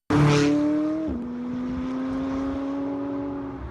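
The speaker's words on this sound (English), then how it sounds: "just to watch and hear these cars go by" McLaren sports cars from a road trip pass over the Red Bridge at Luggate above the Clutha River, a loud engine note sweeping past close by and dropping in pitch, then a steady engine drone fading into the distance.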